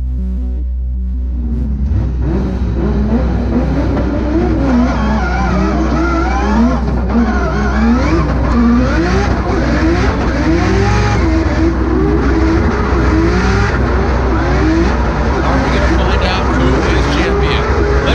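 Drift cars at Irwindale, a lead car and a chase car, launching into the entry at speed with a sustained engine roar and tyre noise, loud and continuous, under an announcer's commentary.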